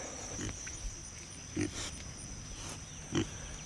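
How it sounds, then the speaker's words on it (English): A mixed-breed feeder pig with Berkshire and Ossabaw in its lineage gives two short, low grunts about a second and a half apart on a homestead, fairly faint over a steady background hiss. "He's a bit bigger than the other feeder pigs that we've got."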